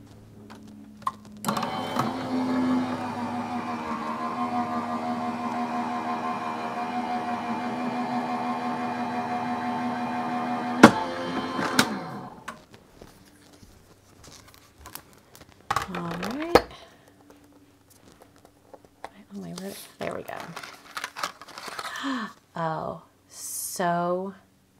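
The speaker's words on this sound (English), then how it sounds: "I'll run this through my die cutting machine" A die-cutting machine used for paper crafting runs with a steady mechanical hum and whir for about ten seconds, ending with a clunk, followed by handling noises and someone talking.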